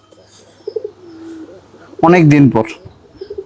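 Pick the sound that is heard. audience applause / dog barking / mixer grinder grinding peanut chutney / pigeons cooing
pigeons cooing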